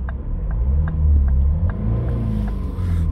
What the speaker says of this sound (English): We will now take it on a test drive and we'll keep an eye on this DPF.